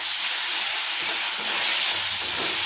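Cleaned prawns, washed with salt and turmeric, hiss and sizzle steadily in a hot pan, a broad, even frying noise close up with no talking.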